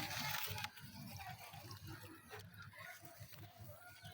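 Water poured onto a freshly planted vegetable seedling in garden soil, a soft rushing splash up front that settles into a faint trickle, quiet overall.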